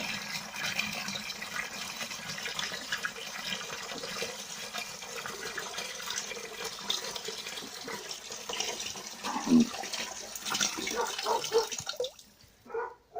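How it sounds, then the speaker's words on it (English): Water pours and splashes steadily into a plant pot reservoir, a continuous gushing wash that ends in a few drips and splashes near the close. "I'm going to fill the water up above the filter."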